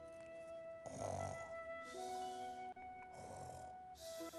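A storyteller imitates the snoring of a sleeping fox in a children's tale, giving slow, drawn-out nasal snores with pauses for breath between them, close and quiet, with no other talk.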